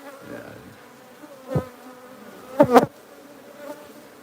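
Bees from a wild hive hum in a soft, steady drone, and individual bees buzz loudly as they pass close by in a few short swells.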